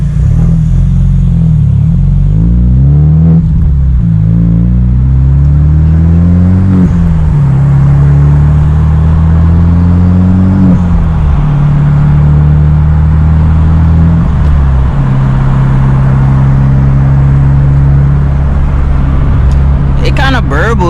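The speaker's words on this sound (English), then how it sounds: "it kind of burbles a little bit too, like when I'm not going that fast and I'm like low in the RPMs, it kind of does a little burble to it." Genesis Coupe 2.0T with a Tomei Extreme titanium exhaust and stock down pipes, a loud, continuous close engine drone rising and falling through the revs with a low burble, while someone talks over it.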